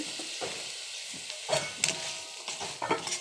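Crab roast curry reheats in a pan with a constant low sizzle, while a spoon scrapes and stirs in irregular bursts up close.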